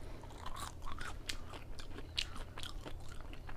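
Close, steady crunching and chewing of Chick-fil-A waffle fries, with repeated crisp bites over a few seconds and no talking.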